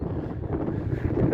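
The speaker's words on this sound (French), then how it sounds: "il y a un vent à décorner les cocus" Strong wind roars steadily across the microphone, a dense low rumble with gusts that build slightly near the end.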